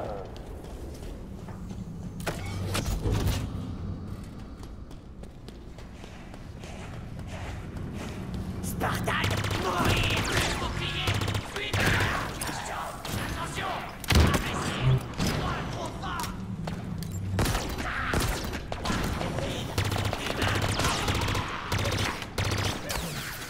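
Submachine gun fire in Halo Infinite, several rapid bursts scattered through a busy game mix, heard under ongoing French talk.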